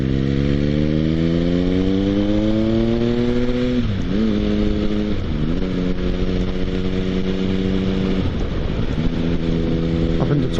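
A motorcycle engine drones steadily while riding, rising in pitch through acceleration, then dipping and climbing again as gears change up into top gear, loud and continuous with wind rush.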